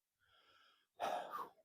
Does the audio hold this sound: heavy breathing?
yes